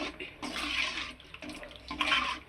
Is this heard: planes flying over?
no